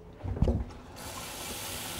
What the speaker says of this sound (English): 2 cups of cold water into the dish.